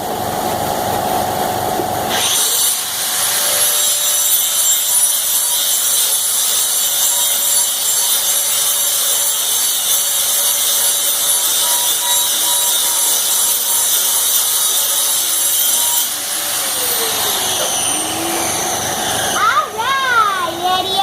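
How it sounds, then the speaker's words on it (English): A grinder strips paint off metal in a sustained, loud, steady whine for most of the stretch, briefly breaking off near the end, with faint voices in the background. "We need need to to go. grind the paint off."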